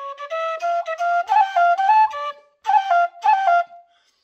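Tin whistle playing an Irish-style tune: a bright, clear solo melody of quick ornamented notes in two phrases separated by a short pause, close and fairly loud, with no other sounds.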